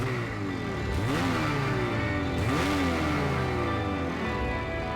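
A Ski-Doo Expedition Xtreme snowmobile with a 154-inch track accelerates off-trail in deep snow, its engine rising and falling through two strong revving surges over a constant loud drone.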